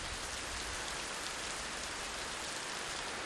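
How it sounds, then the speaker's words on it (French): A heavy tropical rain shower in the forest, a dense, unbroken hiss of pouring water at constant loudness throughout, with no voices. "Il pleut très fort et ça s'arrête tout de suite."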